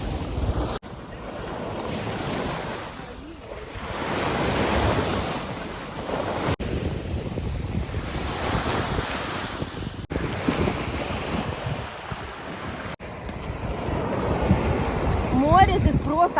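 Black Sea waves roll and break on the beach at Chernomorsk in a continuous surging wash. Heavy wind rumbles across the microphone and swells again toward the end, and a voice speaks faintly beneath it.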